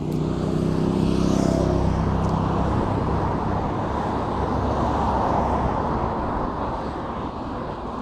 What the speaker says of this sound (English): if you can stand the noise of the cars driving along